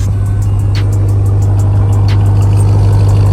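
A 2022 RAM 1500 TRX with a supercharged 6.2-liter engine idles close by on its stock exhaust, a loud steady deep drone with a strong low hum and faint ticking, no talk.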